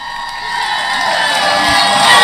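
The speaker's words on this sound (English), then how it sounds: "He needs all the cheering he can get." A crowd cheers and whoops for the last runner crossing the finish line of a 5K race, the mix of adult and children's shouts swelling steadily louder over a couple of seconds.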